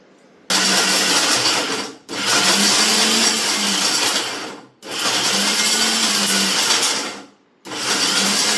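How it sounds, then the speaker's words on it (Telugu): A kitchen mixer grinder crushes soaked nannari roots in three loud bursts, each running a couple of seconds with a steady whirring drone, separated by brief pauses where the motor stops. "ఈ నన్నారి వేళ్ళని ఇప్పుడు మిక్సీ పట్టుకోవాలన్నమాట"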